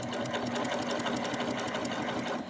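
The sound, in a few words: Baby Lock sewing machine stitching a wide cover stitch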